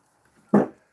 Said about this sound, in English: Yeah, it is my dog barking in the background.